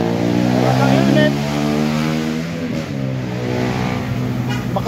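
A motorcycle revs hard at full throttle nearby, a sustained roaring engine note with shifting pitch, steady and loud throughout.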